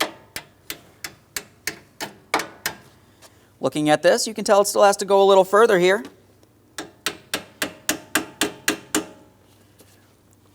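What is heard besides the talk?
small hammer tapping radiator clips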